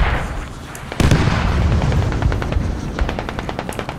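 Rocket and heavy gunfire from a rocket technical pound a hill in the war game Steel Rain, opening with a sharp blast, then a rapid train of distinct cracking shots, loud and near.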